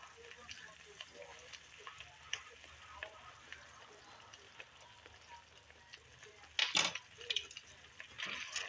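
Sausage, onions and peppers simmering in a savory red sauce, a soft steady sizzle and bubbling with occasional louder spoon clinks and stirring near the end, quiet throughout.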